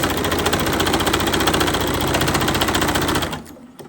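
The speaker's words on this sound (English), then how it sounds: "So I'm just going to keep sewing this" A sewing machine stitches fabric for a quilting project, running steadily with a fast, even mechanical chatter for about three seconds before stopping abruptly, leaving near silence.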